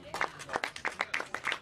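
Scattered claps at a gun store in Douglasville as Georgia's governor signs a permitless carry bill into law: a handful of distinct, fairly evenly spaced claps, modest in volume, with a light room background.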